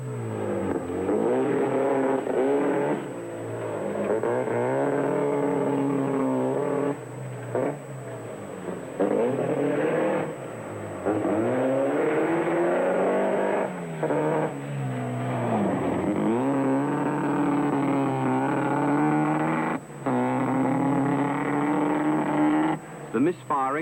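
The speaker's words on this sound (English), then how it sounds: "The misfiring, now plainly audible, loses him time" A 1978 British rally championship car with carburettor trouble runs through a stage, its engine revving and falling repeatedly with uneven, stumbling misfires and brief dropouts, loud throughout under a commentator's voice.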